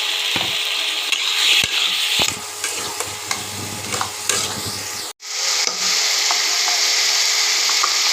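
Fried potatoes tipped into a frying pan with curry spices, sugar and garam masala for a Bengali paneer dalna, with a steady sizzle and scraping spoon strokes stirring them in, close and fairly loud, a brief break near the end.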